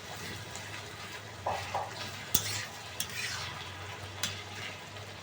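Tomato and egg curry cooks in a pan, a soft sizzle running under a few sharp clinks and scrapes of a utensil stirring against the metal, with no talking.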